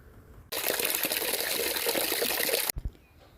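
Water pours steadily in a continuous rushing stream for a couple of seconds, a full splashing fill into a bucket of liquid fertilizer, then stops abruptly.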